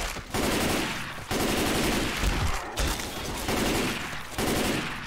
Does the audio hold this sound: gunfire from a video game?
yes